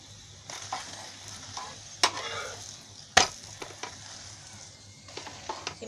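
A sesame and jaggery flatbread fries in ghee on a pan, with a soft steady sizzle under scattered spoon scrapes and two sharp knocks as it is turned over.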